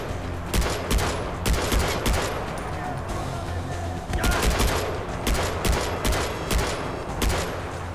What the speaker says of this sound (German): Ich schieße jetzt einfach mal.